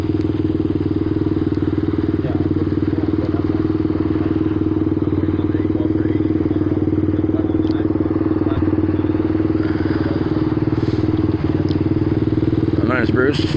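A custom-built motorcycle idles close by with a steady, throbbing low rumble and faint mechanical clatter, continuous and loud throughout.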